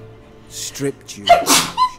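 A single sharp sneeze from a character in the video game The Witcher 3, bursting out loudly and briefly right after a man's spoken line.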